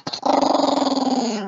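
A one-eyed dog growls in a long, steady, throaty rumble that pulses rhythmically, close and loud, after a brief sharp yip at the start, with no one talking.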